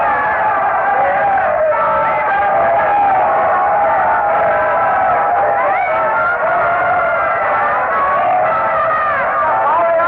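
Crowd of villagers following Napoleon's troops up a mountain road in a radio drama, a dense, continuous murmur and clamor of many voices with whoops and shouts, loud and close throughout.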